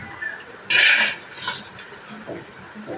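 Fried fish pieces dropped one after another into a simmering fish curry pot, a clattering burst of metal utensil against the pot, then softer splashes and light knocks over a low bubbling background.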